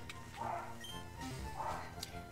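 A dog barks twice, about a second apart, at moderate distance over a quiet indoor background, with short, sharp yips.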